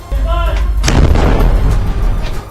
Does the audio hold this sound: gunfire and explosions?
yes